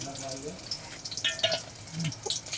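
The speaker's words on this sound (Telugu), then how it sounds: "ఆల్రెడీ ఆయిల్ వేడై ఉంది కదా, కొన్ని ఆవాలు, తాలింపు అయితే వేసేసుకుంటున్నాను." Mustard seeds tempering in hot oil give scattered crackles and pops over a soft sizzle, fairly faint and close by.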